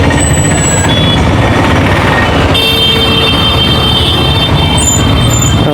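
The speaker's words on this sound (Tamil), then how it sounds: "அப்பா டிராஃபிக்கு சரியான டிராஃபிக் இருக்குது" Dense, loud Madurai city traffic, steady heavy rumble of trucks and buses with short horn toots and high beeps cutting through, continuous throughout with no voices.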